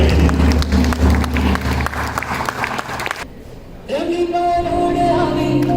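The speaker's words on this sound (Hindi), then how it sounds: "जोरदार तालियां, जो तालियां नहीं भी बजा रहे हैं वो भी बजाइए" Audience at a school Diwali celebration applauding class 10 dhol performers: dense, steady clapping from a crowd over a held musical drone, breaking off about halfway before music resumes.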